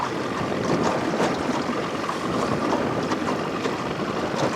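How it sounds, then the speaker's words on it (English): Wind rushing over a moving fishing boat, a steady broadband roar with gusty buffeting against the microphone, close and continuous with no voices. "because this is a moving boat and it's windy."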